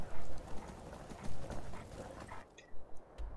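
Horse hooves galloping in the video game Skyrim, a quick rhythmic clip-clop of thudding footfalls, close and steady, then a few separate hoofbeats as the horse slows near the end.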